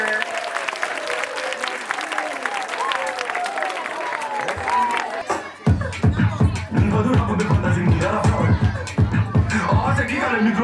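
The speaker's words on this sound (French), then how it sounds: "On applaudit CPR." Applause from a crowd at a community event held by an NGO in Grand-Bassam, with voices over background music at first, then a loud, dense burst of clapping that carries on steadily to the end.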